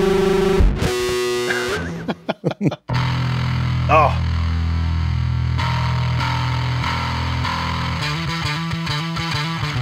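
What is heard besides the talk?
fuzz bass intro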